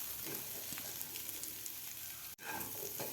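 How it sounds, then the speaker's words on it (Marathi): A spiced potato and pea mixture for aloo matar chaat sautés in a pan, giving a close, steady frying sizzle with light stirring scrapes and a brief dropout near the end. "तर आपल्याला 1 मिनिटभर आपल्याला हे परतून घ्यायचं आहे मसाले घातल्यावर सुद्धा."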